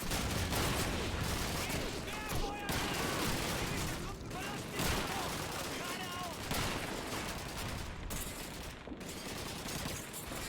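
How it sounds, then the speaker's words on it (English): Sustained machine-gun fire and explosions fill the Call of Duty 2 Xbox 360 battle: dense, loud bursts run almost without pause, with muffled voices faintly underneath. "We need to fire the machine gun from the right!"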